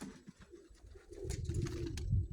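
Pigeons coo softly and repeatedly outdoors at dusk, low murmuring calls building toward the end over faint background noise.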